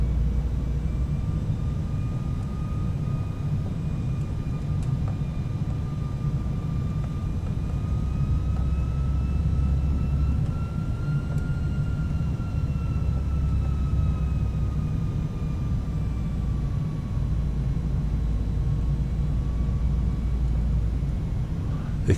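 An airliner on runway approach in a flight simulator, the A319 or B737-600, heard as a loud, steady engine rumble with a faint whine drifting slowly in pitch throughout.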